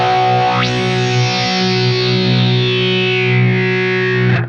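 Heavily distorted electric guitar in a low tuning playing a song's opening, a sustained chord with a sweeping high filtered swell that rises, holds and slowly fades before cutting off.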